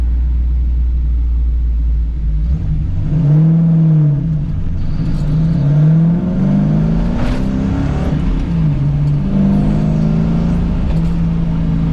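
A 1978 Trans Am engine runs steadily at a low idle around 900 rpm, a continuous deep rumble with slight wavering pitch and no talking.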